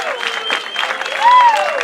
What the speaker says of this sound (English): please welcome, nice round of applause for Laura Kelly